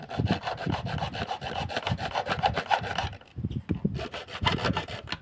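Hand saw cutting through wood in quick, steady back-and-forth strokes, with a brief pause partway before the rasping strokes resume, close up.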